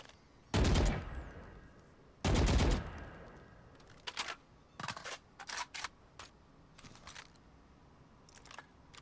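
Gunfire from an upgraded weapon skin in Valorant: two loud, close shots a couple of seconds apart, followed by a run of quicker, lighter shots in uneven bursts, with no talking.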